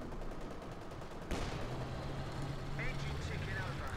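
High-velocity cannon fire from a Jagdpanzer tank destroyer in Company of Heroes 2 rings out as one sharp, loud shot partway through, over steady battle noise and a talking voice.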